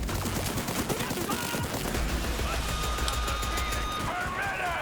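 Enemy gunfire rattles in Borderlands 3, rapid loud bursts of automatic shots layered over one another, with a rising whine near the end.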